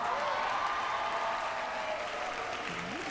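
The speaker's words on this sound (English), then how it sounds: "give me a cheer or a round of applause if you know me off my online content" A stand-up comedy audience claps and cheers in a dense, sustained wash of applause that stays loud and even throughout, with crowd voices mixed in.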